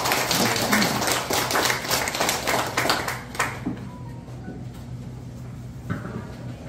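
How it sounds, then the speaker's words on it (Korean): Members at the 40th regular general meeting of the Pyeongsan Shin clan society in Sacheon give a burst of clapping, dense for about three seconds before tapering into scattered claps and quiet. "큰 박수 부탁드리겠습니다."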